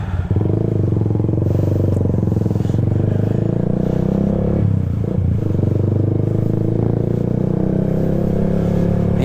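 A loud, raspy Yamaha Sniper 150 motorcycle engine with an open Yoshimura Alpha exhaust roars continuously up close, holding a harsh, open-exhaust drone with a slight dip midway.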